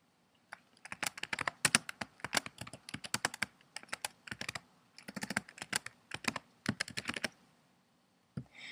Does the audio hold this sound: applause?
no